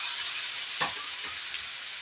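Cooked onions fry in a pan as tomatoes go in, a dense steady sizzle with one brief thud and a soft stir, close and without talk.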